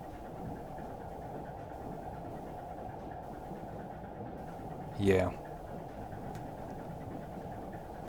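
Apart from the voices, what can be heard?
freighter engines chugging, heard underwater in video game Silent Hunter 3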